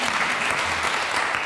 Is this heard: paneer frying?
no